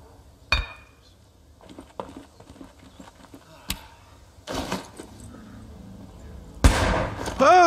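Gunfire in the VR zombie game Saints & Sinners, a handful of separate sharp shots spread across several seconds with mechanical clinks between them, close and fairly loud, with a person talking over part of it.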